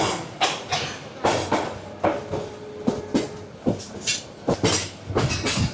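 The Kalni Express pulls out of Kamalapur railway station in Dhaka, its wheels striking rail joints in a loud, steady clickety-clack with sharp repeated thumps and rattling carriages close by.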